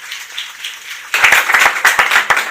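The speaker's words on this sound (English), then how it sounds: "So a round of applause for her." Scattered clapping from an audience at a design conference, starting after a second of room murmur and building into a brief burst of applause in a hall.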